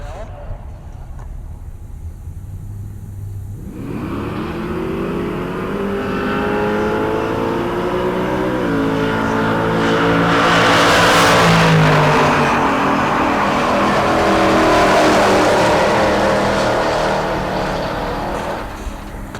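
A Chrysler and a Chevelle drag race at Heartland Park Topeka. The engines roar in from quiet, building to a loud, rising high-revving wail that peaks midway and holds, while a track announcer talks over it.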